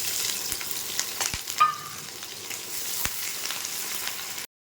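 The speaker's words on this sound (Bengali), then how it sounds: "পেঁয়াজটা ভেজে নিয়েছি।" Sliced onion and green chilli fry in refined oil with nigella seeds, a constant close sizzle broken by a few sharp stirring knocks and clicks.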